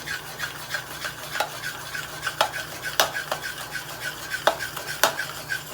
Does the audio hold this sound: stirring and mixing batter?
yes